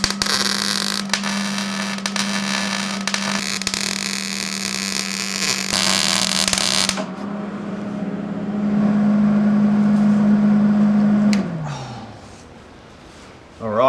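Short runs of stitch welding on thin sheet metal, for a Series 1 Land Rover bulkhead backed by an aluminium heat sink, give bursts of buzzing crackle under a steady electrical hum, then stop, leaving the hum to wind down.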